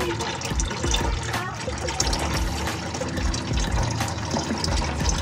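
Water mixed with oil drains from a flood-damaged car transmission in a steady, close trickle and splash, with occasional voices around it.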